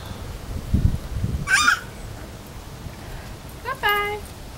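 A pet goose-like fowl named Snow White gives two honking calls, a loud nearby honk and a second shorter one a few seconds later, with a soft thud and quiet voices around it.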